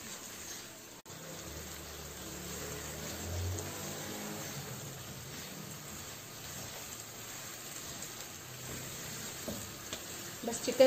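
Chicken sizzling in a pan with red chilli powder and dry coriander powder, a steady low frying hiss with occasional stirring scrapes and a few louder crackles near the end.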